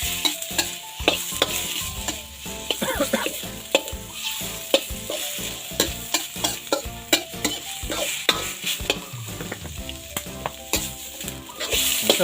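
Pork ribs and holy basil stir-fry in a pan with loud continuous sizzling and rapid, clattering utensil scrapes and knocks throughout, close up, busy and rhythmic, with no talking.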